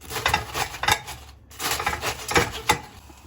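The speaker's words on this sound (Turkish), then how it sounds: "Lahanamızı yıkadık, güzelce tencereye yerleştirdik, incecik bir şekilde doğrayacağız" A knife chops white cabbage finely on a board in a home kitchen, a run of quick crisp cuts in uneven bursts with a short pause midway, close and clear with no talking.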